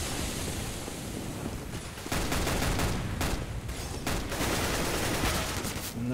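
Gunfire rattles through a Counter-Strike match on the Mirage map, with loud, dense bursts of automatic fire that rise and swell after the first two seconds. The shots blend into a constant wash of noise with no clear pauses.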